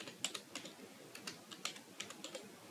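Typing on a computer keyboard at a desk, a quiet run of irregular, crisp key clicks in small bursts, close by and alone with no talking.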